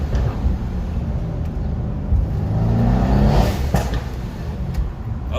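Mercedes C63 with a JB4 tune at full throttle, a loud, steady low engine roar that builds and swells near the middle before easing slightly, heard close with no talking.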